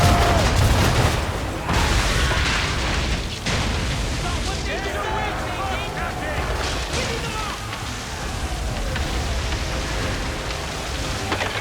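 Ship cannons boom in a naval battle in the Assassin's Creed 3 video game, a dense, loud barrage with rumbling blasts layered over continuous roaring, crackling noise, with shouted voices heard among the firing.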